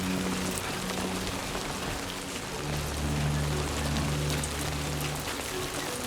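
Steady rain falls across the landscape in the video game Death Stranding 2, a dense, even patter with a low hum of game ambience rising beneath it midway.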